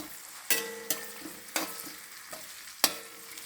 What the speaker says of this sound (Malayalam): നല്ല ഉണങ്ങി ഇത് മൂക്കട്ടെ കേട്ടോ ഉള്ളിന്ന് ലോങ് മൂക്കട്ടെ